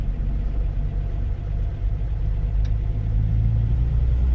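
A 1952 Rover P4 75 engine running as the car drives inside a volcanic crater at Mount Gambier, a steady low rumbling drone that swells slightly toward the end, close and continuous with no talk.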